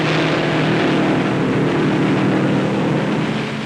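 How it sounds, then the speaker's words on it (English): Race cars of the 1957 Indianapolis 500 roaring around the track, a loud, unbroken engine roar with crowd-like wash, with no voices over it. "Hanks, coming off the corners like a gunshot, is roaring for the checkered flag."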